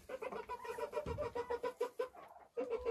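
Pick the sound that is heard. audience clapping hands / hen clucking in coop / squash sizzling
hen clucking in coop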